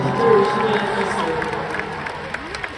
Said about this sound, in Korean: 박수 한번 쳐주세요. 여러분.